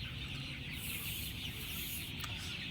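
Broiler chickens, thirty-one days old, cluck and murmur steadily inside a poultry farm in winter, a dense continuous flock chatter with no voices over it.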